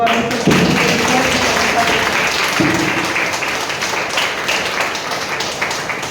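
A congregation claps together during a Christian prayer service, a dense, steady wash of many hands filling the room, with voices mixed in underneath.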